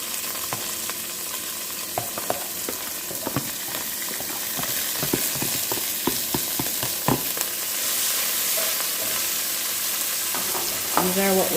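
Garlic and other aromatics sauté in oil under a steady sizzle, with frequent sharp knocks and scrapes from stirring, close up. A louder burst of sizzling comes near the end.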